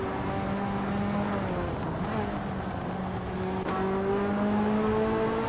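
Race cars, among them a 1987 Ferrari F40 with a turbocharged V8, drone steadily through a race, a continuous engine whine that shifts pitch with gear changes, with other cars layered underneath.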